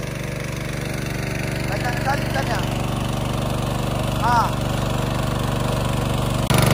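A steady droning motor runs throughout as an engine-driven pump pulls water out of a swamp to dry it, loud and constant while someone speaks briefly over it.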